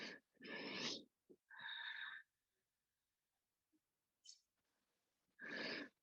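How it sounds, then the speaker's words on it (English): Several slow, breathy exhales during a breathing exercise, separated by quiet pauses, close and soft. "long exhale."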